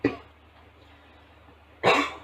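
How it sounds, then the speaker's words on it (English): Two sharp coughs, one at the very start and another near the end, separated by a quiet stretch of room tone. "excuse me with the coughing"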